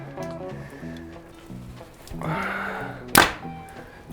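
An arrow shot from a Hoyt VTM compound bow strikes a backyard target with one sharp, close thunk near the end, following quieter rustling and muffled background sounds.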